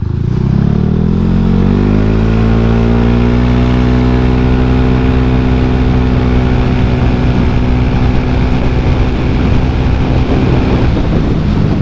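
Honda Scoopy scooter accelerating at full throttle, the engine note climbing steadily and then holding a loud, buzzing drone, with heavy wind rush on the microphone.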